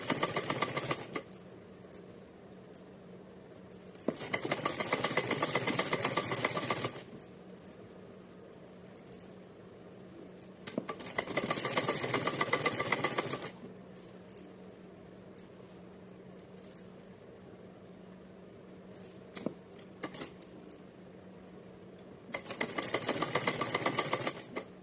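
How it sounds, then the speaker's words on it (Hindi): Sewing machine stitching a small dress for a Radha Rani doll runs in three separate bursts of rapid, even needle chatter, with quiet pauses between them and no talk. "फिर से सिलना है।"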